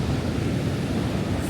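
Steady surf washing onto the beach at Cape Lookout, North Carolina, a continuous broad roar of waves near high tide, close and loud with wind buffeting the microphone and no talking.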